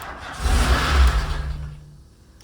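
A blue MK2 VW Golf GTI 16v engine revs up close, a single throaty rise that swells loudly, holds briefly and falls back toward idle, ending with a sharp click; no one speaks.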